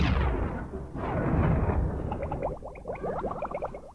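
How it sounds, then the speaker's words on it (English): Spectacular explosions from the N64 shooter Turok: loud, dense booming blasts rolling continuously, then giving way to a rapid burst of sharp popping shots near the end, with no talk. "The graphics are impressive and feature some of the most spectacular explosions"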